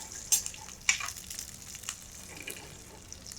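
Dry red chillies and curry leaves frying in hot oil as a tempering for Kerala-style aviyal, a mixed vegetable coconut curry: a steady faint sizzle with a few sharper crackling pops near the start.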